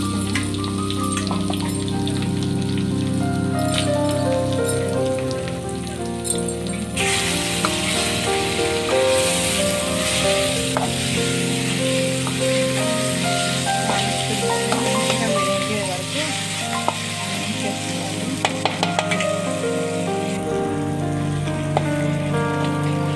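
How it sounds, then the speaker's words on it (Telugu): Curry leaves with green chillies crackle and sizzle in hot oil, a dense close spitting hiss with sharp pops, and a voice talks over it at times. "కరివేపాకు అయితే వేసాను, వేగుతుంది."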